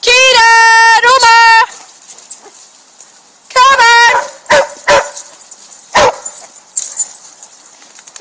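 Several dogs at a home boarding and daycare bark in loud bursts, with a long run of rapid barks at the start, another cluster near the middle and scattered single barks after. A person calls out to them in between.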